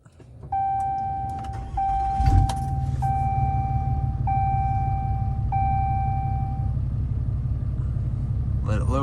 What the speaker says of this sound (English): Let's turn on the truck.